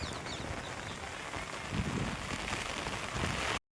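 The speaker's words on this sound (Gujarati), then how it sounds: "મિત્રો વરસાદ એકદમ વધી રહ્યો છે" Monsoon rain falls steadily on a village, a dense, continuous hiss of drops striking surfaces that swells slightly midway and stops abruptly at the end, with no voices.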